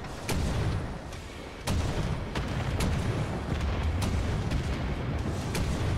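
Rocket explosions in Wolfenstein: The New Order, a dense, rumbling barrage of booms with sharp blasts at irregular intervals, loud and continuous throughout.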